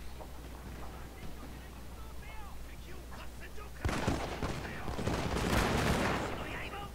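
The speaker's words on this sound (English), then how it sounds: "A couple of pot shots being taken at these attendants." Mounted gunners firing in the video game Shogun 2 Total War: a burst of distant crackling musket volleys erupts midway over a low battle rumble, with faint talk underneath.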